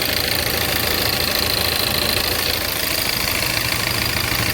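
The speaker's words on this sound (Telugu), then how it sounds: "చూడండి మన ఇంజన్ స్టార్టింగ్లో ఉంది" A car engine idles steadily with a continuous low rumble and broad mechanical hiss, no voices, constant in level throughout.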